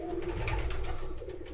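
Pigeons coo inside a pigeon loft, a brief, soft, throaty burbling close by with no voices over it.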